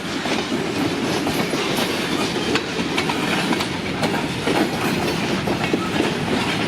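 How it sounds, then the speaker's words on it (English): A train rumbles steadily along the rails, with rhythmic clickety-clack from the wheels over a continuous low roar, heard from inside or close by. "I think this train's going all the way to Crivets."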